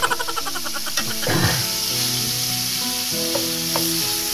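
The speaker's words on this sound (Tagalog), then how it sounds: "Yan mga Koblax, simikos-mikos muna natin itong bawang." Garlic sizzling steadily in hot oil as it is sautéed for pakbet, a loud, continuous frying hiss with occasional stirring clatter, close up and without talk.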